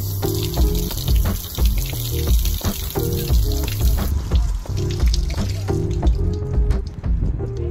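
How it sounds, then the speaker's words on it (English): Steady rushing water spray hisses loudly throughout while washing foam off a 4WD vehicle, with splashing and dripping mixed in, close by and continuous. "You really want to keep the spray going until it, the foam sort of stops."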